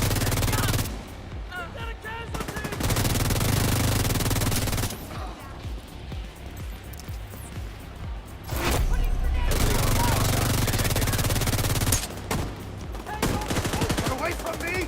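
Sustained automatic gunfire rattles through a firefight in The Division 2, loud dense bursts with brief pauses, a player's voice talking over the shooting.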